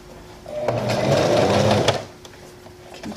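A sewing machine stitches a face mask with elastic at a fold, whirring in one steady close burst of about a second and a half between quieter pauses, with light handling clicks around it.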